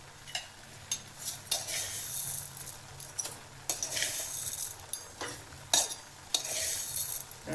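Papaya halwa with ghee and sugar stirred in a pan, a close series of spoon scrapes and clinks against the metal over a soft sizzle, irregular strokes with no speech.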